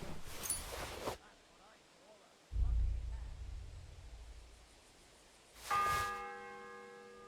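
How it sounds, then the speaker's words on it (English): A church bell tolls in Kingdom Come: Deliverance 2, a deep struck note that hums and fades, followed later by a brighter ringing strike with a long shimmering decay, amid other game sounds. "The fourth bell."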